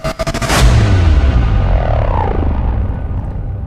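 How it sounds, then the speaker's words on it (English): A whoosh bang transition effect for music production: a short rising whoosh that slams into a heavy, booming impact, followed by a long, loud low rumble decaying over a few seconds, with no voices. "Add that in with a whoosh bang."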